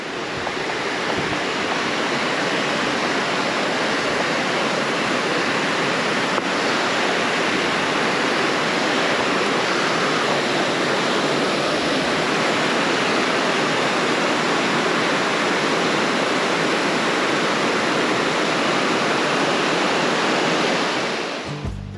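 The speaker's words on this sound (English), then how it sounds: "This place with its streams and waterfalls" Steady, loud rushing water fills the whole stretch on the Foothills Trail, a continuous broadband roar like a waterfall pouring into a stream, with no voices.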